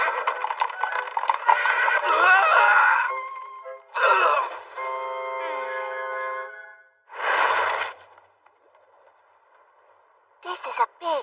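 A horse in a fantasy sword-and-magic video game neighs and whinnies loudly in several long bursts, with clip-clop hoofbeats and other game sounds between them.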